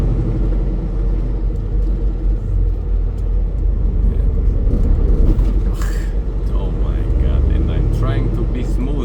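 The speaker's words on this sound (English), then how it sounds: "this truck drives like a tractor" A truck cruises on the I-35 highway near San Antonio, its engine and road noise forming a steady, close low rumble under intermittent speech.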